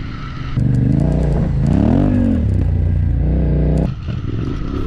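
Yamaha Tenere 700 adventure motorcycle labouring over rough off-road terrain, its engine loud and close with rising and falling revs, clattering and scraping through the ride before the strain eases near the end.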